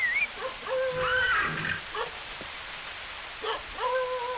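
Steady rain hisses throughout a scene in the PS1 farming game Harvest Moon Back To Nature, under bright melodic game music and a few short animal-like blips.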